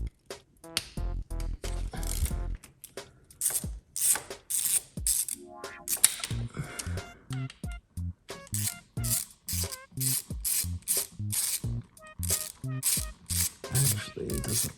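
A hand ratchet clicks in quick repeated bursts while cracking loose the oil drain bolt on a Honda CRF150R dirt bike, close and crisp, with short pauses between strokes.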